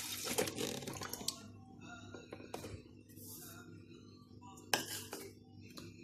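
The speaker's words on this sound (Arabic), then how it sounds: "يلا أول حاجة هنحط اللبن بتاعنا" Milk poured into a container for homemade Nutella, a short liquid splash with faint glass clinks nearby, quiet and close, followed by a brief knock.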